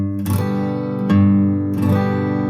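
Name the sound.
guitar strumming, root note on beats 1 and 3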